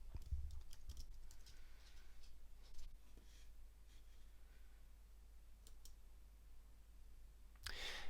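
Someone types an email address on a computer keyboard, quick light key clicks coming in short bursts over a faint steady room hum, with no talking.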